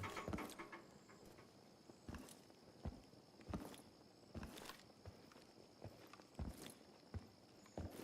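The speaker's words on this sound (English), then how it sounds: "Hear footsteps outside as well." Footsteps outside in the video game Incursion Red River, a series of irregular, fairly distant thuds spread across several seconds over a faint ambient background.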